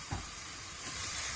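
Chopped onion landing in a hot pan greased with fatty sausage, a sharp sizzle and hiss with a brief thump of the onion going in, close and steady.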